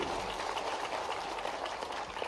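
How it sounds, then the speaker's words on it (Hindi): A crowd applauds for Narendra Modi at a Sant Ravidas Jayanti celebration, with dense, steady clapping that runs unbroken throughout and no voices on top. "जोरदार ताली बजाओ माननीय मोदी जी के लिए"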